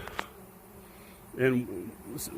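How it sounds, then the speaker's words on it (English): A large honey bee swarm, about ten pounds, swirls around people's heads in a bee yard; one bee buzzes loudly past close by midway through, over a faint steady hum of the swarm, with a few brief knocks. "while this swarm's swirling around our heads"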